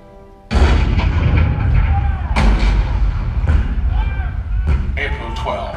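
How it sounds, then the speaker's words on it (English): Cannon fire at Fort Sumter in 1861: a sudden heavy boom opens a sustained rumbling barrage, with further deep blasts landing roughly every second, loud and close. "The cannon spoke for war, bitter, violent, and devastating."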